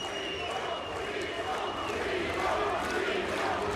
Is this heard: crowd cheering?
yes